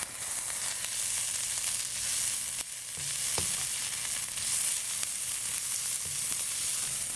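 Pork hits hot oil already seasoned with ginger and garlic and sizzles steadily throughout, a dense, close crackle with a few louder pops and stirring scrapes, and no talking over it.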